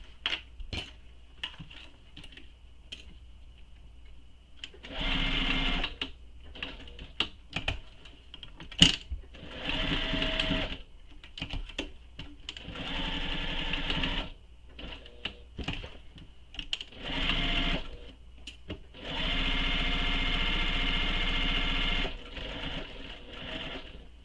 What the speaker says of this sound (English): I'm going to sew this going the other way because it's sticking to the bed of my machine